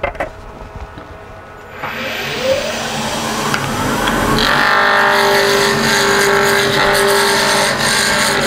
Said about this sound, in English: So the first thing I've got to do is round this piece of wood over.